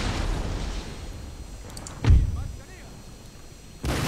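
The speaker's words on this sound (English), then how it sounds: "use my canister shot against him" Artillery in the Empire: Total War strategy game fires canister shot, one deep booming report in the middle with a second blast at the end, over game ambience and a faint voice.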